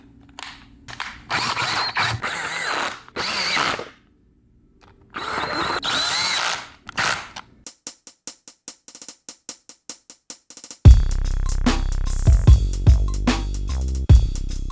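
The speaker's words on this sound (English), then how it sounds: "Side cover bolts get torqued down to 18 foot-pounds, but I run them in with the gun first." Air gun running in side cover bolts on a new Muncie 4-speed transmission with a Dana 300 adapter: bursts of loud pneumatic whirring separated by silence, then a rapid ratcheting rattle and a heavy hammering impact run.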